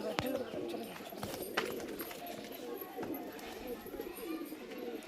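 Pigeons cooing in a pigeon loft, soft repeated low coos close by with scattered clicks and wing flutters, while people talk throughout.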